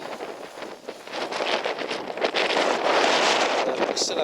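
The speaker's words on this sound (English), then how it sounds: "It's turning a bit windy and blowy." Wind gusting across open moorland on a walk between Warren House Inn and Hameldon Beacon, buffeting the microphone with a broad, rushing roar that builds and stays strong throughout.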